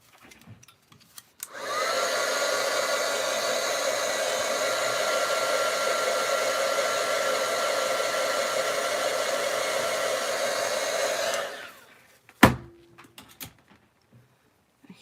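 A hair dryer blows steadily on a recycled tin can craft, a loud even whoosh that starts abruptly, runs for about ten seconds and cuts off, followed by a thump and faint handling noises.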